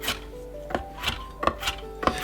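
Fresh parsley is chopped with a cleaver in a home kitchen: quick, crisp blade strikes land about every third of a second, close and fairly quiet, with no talking.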